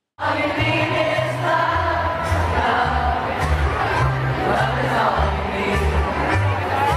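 A concert crowd packed inside Roseland Ballroom sings along together to a song, a loud, dense mass of voices in unison over a thumping bass-heavy backing, with chatter mixed through the steady roar.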